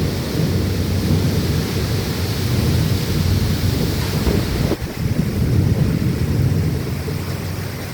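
Heavy rain from a cyclone roars steadily with low rumbling thunder underneath and a sudden sharp crack midway, with no voices.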